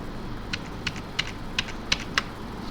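Keys clatter on a computer keyboard, about seven separate crisp taps spaced irregularly over a faint steady background hum.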